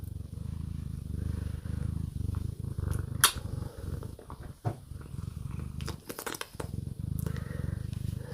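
A cat purrs steadily and close to the microphone, a low rhythmic rumble broken by a few sharp crinkling clicks and rustles.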